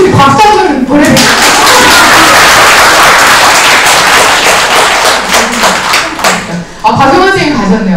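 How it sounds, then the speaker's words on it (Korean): Audience applause breaks out at a health seminar Q&A session, loud dense clapping from a crowd between stretches of talk from a speaker at the start and end. "그냥 이유 없이 박수 한번 보내드릴게요."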